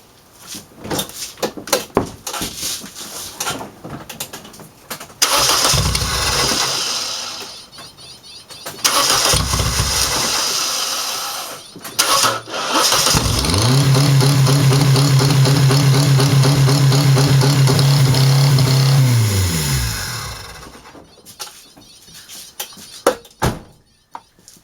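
Car engine with its exhaust pipe removed during an exhaust and EGR valve cleaning job, intake tract fitted: after several loud bursts, it fires up and idles roughly, then revs hard and steady for several seconds, loud and close, before shutting off.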